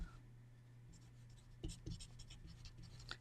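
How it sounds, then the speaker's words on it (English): Pencil writing on paper close to the microphone, with short scratchy strokes and a few firmer taps in an irregular rhythm over a quiet room hum, no talking. "I'm going to write that down real quick"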